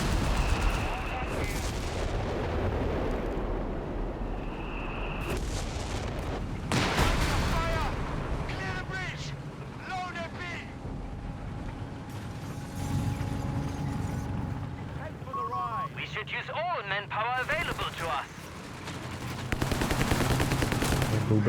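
Dense battle noise from the video game Company of Heroes 3 during a 4v4 match on the Sousse map, with repeated artillery blasts, bursts of gunfire and mechanical clatter rolling through the whole stretch, under a commentator talking throughout.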